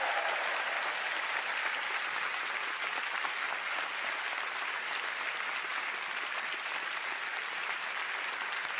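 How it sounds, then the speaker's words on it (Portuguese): Continuous, loud applause from a church congregation in Singapore fills the room evenly, a dense wash of clapping with no breaks and faint crowd murmur underneath. "Posso ouvir sua salva de palmas adequada e o seu mais alto amém?"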